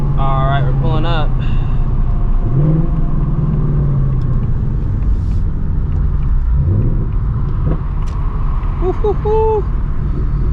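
Manual S650 and S550 Mustang engines rumbling as a car pulls up, a loud low continuous growl with a few rising and falling revs, under someone talking excitedly.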